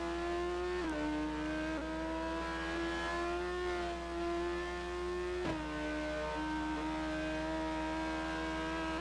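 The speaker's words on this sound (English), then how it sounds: "You can hear that Ferrari ahead." A Ferrari race car engine screams in a Formula-style race at the French GP in the Forza video game, holding a high sustained whine with two sharp gear-shift drops, fairly faint and alone.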